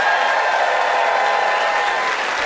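A studio audience at a comedy debate show applauds to vote for a contestant. Dense, even clapping fills the whole stretch at steady loudness, with a slight crowd murmur underneath.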